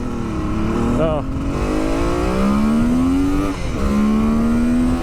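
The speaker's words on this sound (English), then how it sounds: "And it's a torquey two-stroke." A 1974 Kawasaki H2B 750 two-stroke triple with rewound stator and new electronics revs and pulls through rising engine tones, loud and close, with a brief shift dip partway through.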